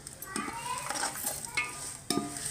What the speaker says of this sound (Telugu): అది నూనెలో అలా మగ్గబెట్టుకుందాం